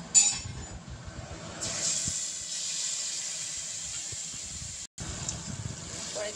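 Marinated hilsa fish coated in turmeric, salt, mustard paste and raw oil lands in hot oil in a wok, bursting into loud sustained hissing and sizzling with a brief clink and a short gap near the end.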